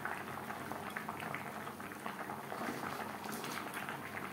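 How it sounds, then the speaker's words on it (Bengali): Tangra fish simmering in gravy for a Bengali-style jhol, a steady bubbling and gentle popping that holds even throughout at low level, with no voices. "গ্রেভির সাথে মাছ আরও 3-4 মিনিট রান্না করব।"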